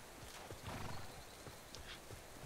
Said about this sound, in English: I'm just going to grab this horse and run away.